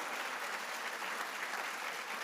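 Staff audience applauding at a president's fall address, a steady, dense wash of clapping with no talk, holding even for about two seconds.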